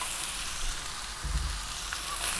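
Cooked cold rice frying in a pan over high heat makes a continuous hissing sizzle, with a brief low thump midway as it is moved around.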